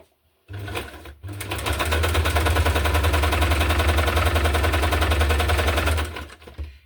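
A sewing machine stitches through a hardcover junk journal in one sustained run, a loud, rapid rattling hum that starts after a brief pause, holds steady for several seconds, then stops.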